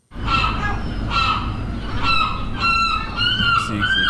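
Loud, harsh gull calls repeat close by in a series of squawking cries.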